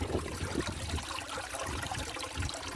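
Steady trickling and splashing water runs through a gold mining trommel and cube setup processing a desert lode ore sample, a continuous close wash with no talk.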